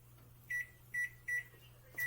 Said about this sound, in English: you cook it for 6 minutes in the microwave